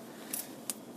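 Scissors cutting crochet yarn give two crisp, close snips about a third of a second apart against a quiet room background.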